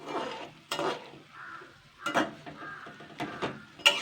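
Palm fritters frying in medium-hot oil, stirred with a metal spatula: scraping clatters against the pan in several separate bursts over a soft, steady sizzle, with no voices.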